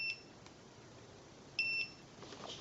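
A FOCHANC DM003 budget multimeter on continuity test gives two short, high, clean electronic beeps, one at the start and a slightly longer one midway, over a quiet background with faint handling clicks near the end.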